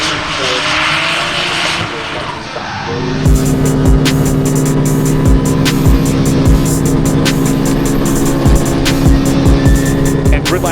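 Gridlife GT class race cars at speed on a circuit, engines roaring loudly and continuously, with several cars whooshing past close by in quick succession and brief tire squeals.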